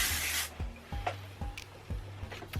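A can of Redken Wind Blown hairspray gives a single steady spray burst of about half a second. Soft rubbing and handling sounds follow close by at a slow, uneven pace.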